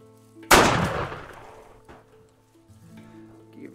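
A single loud gunshot during target practice in a western film scene, a sharp crack followed by a long fading echo, with quiet ambient sounds afterward.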